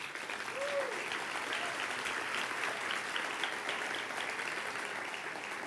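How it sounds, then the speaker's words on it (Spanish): A conference audience applauding steadily for several seconds, a broad wash of clapping at moderate distance with a faint voice rising briefly near the start. "Quiero que le den un aplauso."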